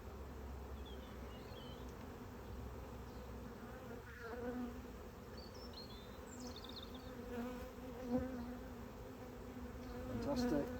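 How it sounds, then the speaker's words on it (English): Honeybees buzz steadily throughout a beehive inspection as the frames are cracked open, a dense, continuous drone close by with a few louder swells and faint knocks from handling the hive. "When you crack the frames open, that can agitate the bees."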